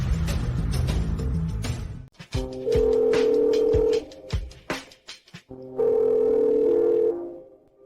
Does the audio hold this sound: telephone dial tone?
yes